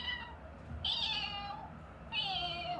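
A person imitates a cat's meow twice, two drawn-out mewing calls spaced about a second apart over a steady background hiss.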